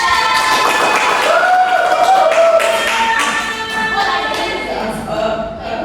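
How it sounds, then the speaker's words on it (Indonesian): Students in a classroom clap for a classmate, a close, lively burst of applause mixed with children's shouts and chatter that tapers slightly toward the end. "Kasih tepuk tangan buat dia."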